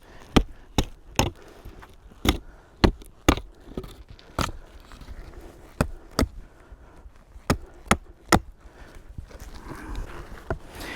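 A blade strikes wooden stakes, sharpening their points at a campsite on a remote island. About a dozen crisp, close chops land in an uneven rhythm over quiet outdoor ambience.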